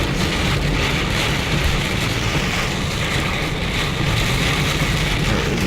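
A heavy winter rainstorm beats on a car driving in strong wind, a loud, dense, continuous drumming and hiss of rain on the body and glass with road spray, steady throughout with no talking.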